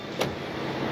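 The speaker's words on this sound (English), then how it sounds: "Key in the ignition. Don't even have to pump the gas." A Mitsubishi Pajero started with the key and no pumping of the gas: one short, sharp crank burst gives way at once to a steady, close engine running alone.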